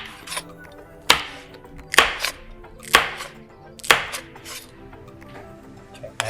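A knife cuts beef into thin slices on a board, producing about five sharp, close chops at an even, unhurried rhythm with softer contacts between them.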